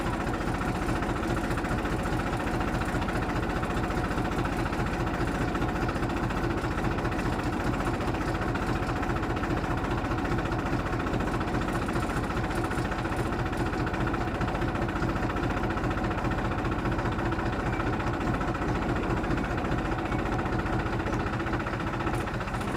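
A tractor engine idles with a steady, low, rumbling drone while it pulls a motor up out of a well on a farm. The sound stays constant and close throughout, with no talk over it.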